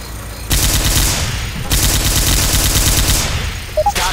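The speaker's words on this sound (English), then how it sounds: "Stop shooting each other." Video game gunfire, long sustained bursts of rapid automatic shots, loud and dense, with a brief pause between volleys.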